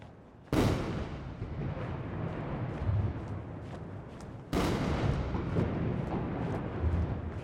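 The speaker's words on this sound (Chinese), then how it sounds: "隆隆炮声" Artillery guns fire a ceremonial salute at China's 2019 National Day parade, two huge booms a few seconds apart, each followed by a long rumbling roar that carries on, heard with no talking.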